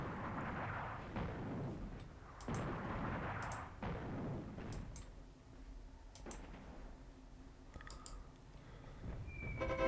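Artillery fire in the North Africa wargame Attack at Dawn, several dull booming blasts at uneven intervals with sharp crackling transients, fairly loud at first and thinning toward the end, with no voices.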